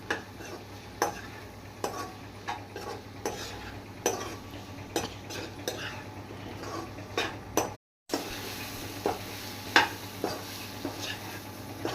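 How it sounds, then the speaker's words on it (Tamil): Spice powders stirred into a crab curry in a pan, a spoon scraping in steady repeated strokes over a faint sizzle, close and alone, with a brief gap near the end. "எல்லா பவுடரையும் மிக்ஸ் பண்ணிக்கோங்க."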